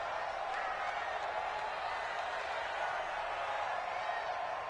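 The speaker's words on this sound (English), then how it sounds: "The crowd getting into it as we come up on a big 3rd down." Stadium crowd at a football game before a big third down: a steady, dense roar of cheering voices, fairly distant and unbroken throughout.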